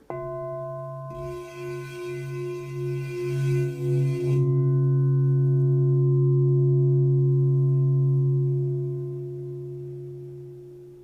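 A crystal singing bowl sounded with a wand rings out in a sustained, pure drone with steady overtones, a brief brighter rubbing texture early on, then holding clear and loud before slowly fading.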